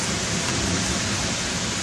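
Heavy rain pours steadily during a severe thunderstorm, a loud, dense, unbroken hiss close by with no pauses and no talking.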